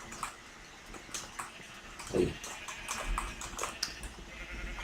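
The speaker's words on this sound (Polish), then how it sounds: "jest to hodowla owiec, owieczki, bardzo ich dużo." Sheep in a large Minecraft sheep farm let out short game bleats, scattered and overlapping at a soft to moderate level against a faint background.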